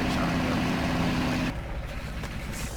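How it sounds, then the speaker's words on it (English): A loud, rumbling gasoline engine of a Chevy truck in the off-road driving game Spin Tires, with a steady low drone that drops to a lower, quieter idle partway through. "Startup on the Chevy is just really loud."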